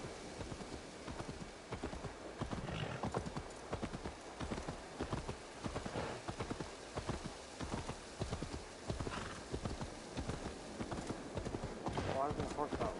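Horse hooves clip-clop at a steady walking rhythm in Assassin's Creed Valhalla, close and continuous throughout, with an occasional whinny and characters talking over the hoofbeats.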